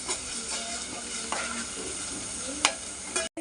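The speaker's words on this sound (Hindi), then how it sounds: "प्याज गोल्डन ब्राउन हो चुका है और अब उसके अंदर हम अदरक लहसुन का पेस्ट डाल रहे हैं" Onion fried golden brown sizzles in a pan as ginger garlic paste is stirred in for mutton paya soup; a steady, close hiss of frying runs throughout, broken by scraping stirs and clatters, with no talk.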